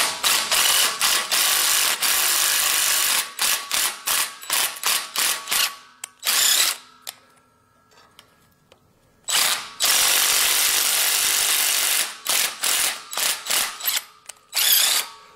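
Bursts of a power drill whirring in short repeated runs while drilling and tapping a hole, with brief pauses and a couple of longer gaps between, close and fairly loud.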